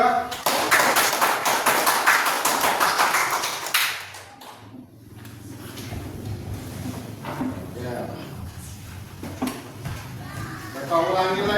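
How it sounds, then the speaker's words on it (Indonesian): A class gives group 2 a burst of dense clapping that stops after about four seconds, followed by quieter room noise, murmuring voices and a few stray taps. "Tepuk tangan untuk kelompok 2."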